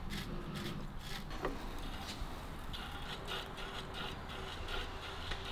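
A brake shoe spring grating against a part on the rear brake back plate of a 1963 Mini Cooper 997, heard as faint, repeated scraping and rubbing strokes over a steady low background.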